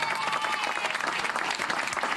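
Dense, loud applause from a crowd at a French municipal campaign event, rapid overlapping claps filling the whole moment without any voice on top.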